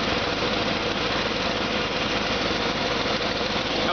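The engine of a bucket truck forestry truck idling, a steady dense rumble with even low pulsing, close and constant throughout with no voices.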